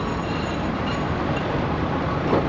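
A tram running along a Bucharest street, giving a steady, continuous rumble of wheels on rails with a broad traffic-like roar that stays at an even loudness throughout, with no talk.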